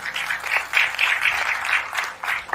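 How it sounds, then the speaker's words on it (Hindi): An audience at a business training event claps in a steady, bright patter that holds at moderate loudness throughout the brief stretch, without any talk over it. "तो दोस्तों एक जोरदार तालियां"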